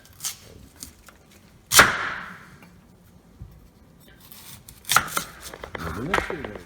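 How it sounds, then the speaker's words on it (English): A serrated knife cuts through the ends of raw beets with a few separate sharp chopping strokes, one of them loud, followed by quieter sawing and scraping. "Just take a nice serrated knife. I usually cut both ends."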